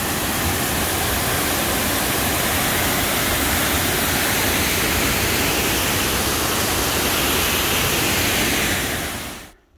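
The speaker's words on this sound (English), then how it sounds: "First set of falls we're seeing today here in the" Waterfall in the 100-mile wilderness pours in a loud, steady broadband roar close by, unbroken for nearly ten seconds before cutting off abruptly at the end.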